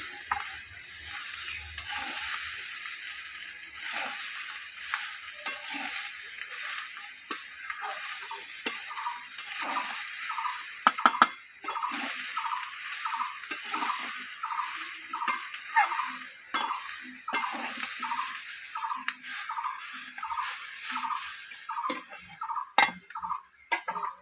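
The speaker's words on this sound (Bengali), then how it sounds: "ভালো করে কষে নিতে হবে" Fish head, fish roe and Malabar spinach are sautéed in a pan with a steady sizzle. A spatula scrapes and stirs in a quick, regular rhythm, close and continuous, with no talking.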